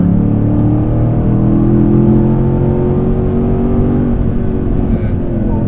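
The engine of a 2015 Chevrolet Camaro Z28 drones steadily and loudly as it accelerates, heard from inside the car, with a low sustained growl throughout and people talking over it.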